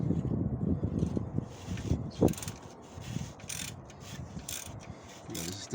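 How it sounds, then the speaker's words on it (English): Ratcheting and metallic rubbing as 10mm bolts are worked loose around the oil sump pan of an MK4 VW Golf, steady close-up mechanical clicks with a sharper knock midway, no talk. "I'm just going to work my way around to get these 10mm bolts off."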